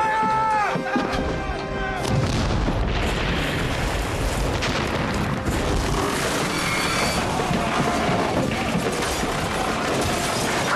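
Broadside cannon fire from a sailing warship firing heated shot roars in a dense, continuous barrage of booms and blasts, with shouted voices briefly heard at the start amid the battle noise.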